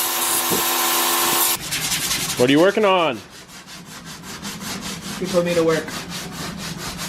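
Hand sanding scrapes rhythmically across a plastic body part of a Scion tC being prepped for primer, steady rasping strokes up close, with brief conversational voices in between.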